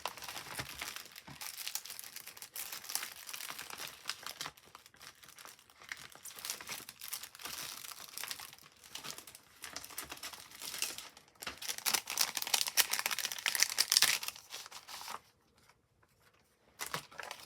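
Close, crinkly plastic zipper bags rustling and crackling almost continuously, with brief pauses, then a quiet stretch near the end.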